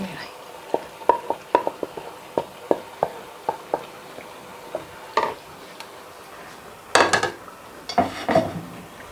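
Cooked mutton is tipped into a pot of spinach and turnip curry and stirred, giving a string of sharp spoon-on-pot clinks and scrapes spaced through the clip, with a few louder clattering bursts near the end.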